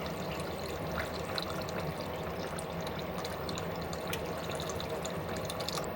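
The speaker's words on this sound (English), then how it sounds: "Now, add in filtered water to fully cover the meat." Filtered water is poured into a pot of braised pork seasoned with Japanese sake, a steady soft stream with light trickling and splashing that runs continuously and fairly faintly throughout.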